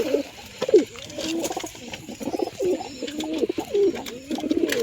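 Pigeons coo close by in a repeated series of soft, throaty calls, several birds overlapping in a steady rhythm with light rustling behind them.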